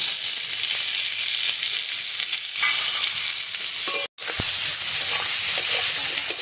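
Steady, crackling sizzle of taro stolons frying in a pan, loud and continuous, with a brief gap of silence near the end.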